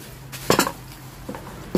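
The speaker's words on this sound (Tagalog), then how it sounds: "Pinggan." Plates and dishes clatter in a home being tidied and moved into, a few sharp clinks and knocks of crockery set down close by, separated by quiet pauses.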